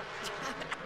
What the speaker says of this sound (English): Oh, and the bees are angry.